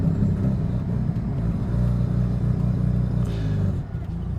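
A car with an 8HP automatic transmission driving on a road, a steady low engine rumble and road drone close inside the cabin, continuous and fairly loud with a slight dip near the end.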